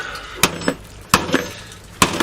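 Three sharp, loud hammer blows strike a plastic-and-glass emergency light being scrapped, each crack ringing briefly before the next, spaced roughly a second apart with no talk.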